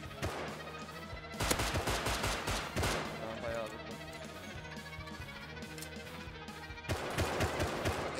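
Gunfire in a Rust match: several bursts of rapid rifle shots crack in clusters, loud and close, with quieter gaps between volleys and a voice talking at moments underneath.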